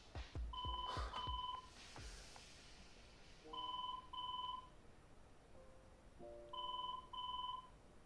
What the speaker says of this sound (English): I love it when no one answers the phone.